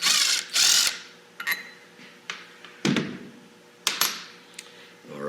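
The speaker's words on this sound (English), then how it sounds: "I got one more bolt to pull off here" Metal tools work the last bolt out of an automatic transmission pump, with ratcheting clicks, sharp metallic clanks and thunks in irregular bursts, close up and alone with no voices.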